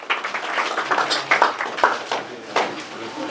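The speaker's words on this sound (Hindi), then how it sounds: "ताली थोड़ा सा हो जाए।" A class of eighth-grade students claps in a brief round of scattered, uneven applause indoors, lasting a few seconds at moderate volume.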